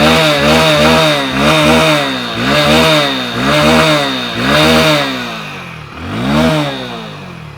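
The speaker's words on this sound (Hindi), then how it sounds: "अब मैं थोड़ा सा थ्रॉटल देता हूँ।" A 100cc commuter motorcycle engine is revved repeatedly with the throttle, rising and falling in about six rhythmic pulses, loud and close with a buzzy exhaust note and no talking.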